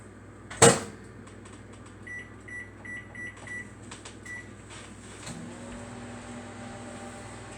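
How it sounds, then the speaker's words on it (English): A microwave door thuds shut, a string of keypad beeps follows, then the oven hums steadily as it starts running, cooking baby potatoes. "put them in the microwave for 10 minutes"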